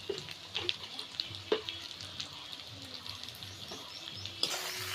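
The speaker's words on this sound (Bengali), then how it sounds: "এরপর এটাকে আমরা ভালোভাবে কষিয়ে নেব।" Spices sautéing in oil for Bengali prawn malai curry give a soft continuous sizzle with a few light spoon taps and stirring scrapes close by, no talk.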